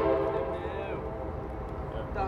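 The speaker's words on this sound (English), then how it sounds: "Train." A train horn sounds in one sustained, steady blast of mixed tones, loud and fairly close, with rumbling rail noise underneath and no talking.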